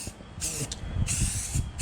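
Rattle-can primer sprayed onto a roof, with three or four bursts of close aerosol hiss separated by short pauses and low background noise.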